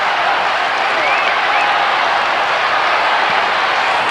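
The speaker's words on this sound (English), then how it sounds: "The crowd has come to life" Australian football crowd at a St Kilda vs Melbourne game in 1991 roaring and cheering in a loud, continuous wash of noise that stays constant throughout.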